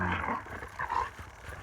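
Several dogs in temporary accommodation bark and grumble at one another, muffled yelps and growly vocalizations over a low background rumble.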